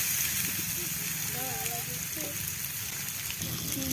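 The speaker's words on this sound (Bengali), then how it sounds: "হলুদ আর লবণ দিয়ে আমি আলুটা ভেজে নিচ্ছি।" Potatoes sizzling in hot oil with turmeric and salt, a steady soft crackle and hiss close by, with a voice talking over it.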